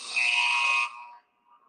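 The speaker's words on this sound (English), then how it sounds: "I don't know if you heard that, but that's the buzzer" Loud electronic buzzer at a curling match, a steady harsh tone sounding for just under a second, then a quieter tail and a faint short blip as it fades out.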